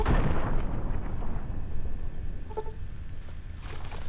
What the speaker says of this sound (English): Alright, so let's throw a grenade.